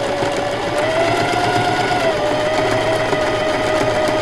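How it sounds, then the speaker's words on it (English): A sewing machine runs steadily, stitching across a scrubby dishcloth. The motor hums continuously and loudly up close, with no pauses and no voices. "I'm going to sew it all the way across"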